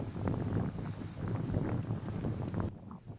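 Strong wind blows across a golf course, a loud continuous rumbling rush that buffets the microphone and then drops off abruptly near the end.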